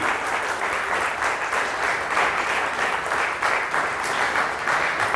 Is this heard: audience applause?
yes